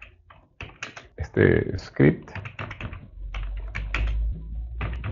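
Keys clacking on a computer keyboard as a script is typed, a run of quick close taps under a man's speech, with brief pauses between bursts.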